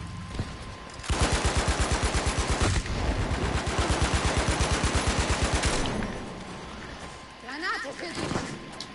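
Rapid automatic gunfire in Battlefield 5 on the Operation Underground metro map, a long steady burst of evenly spaced loud shots for about five seconds, then a quieter stretch with scattered distant battle noise; a voice talks faintly underneath.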